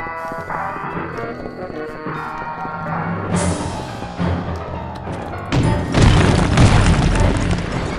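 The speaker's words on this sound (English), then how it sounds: "Confusion! Grenade!" A confusion grenade exploding in the video game Psychonauts, a deep booming blast with crashing debris swelling over the game's musical background, loud and close.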